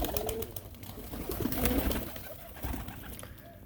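Flock of kept pigeons cooing at their coop, several low rolling coos repeating close by amid light rustling and background noise.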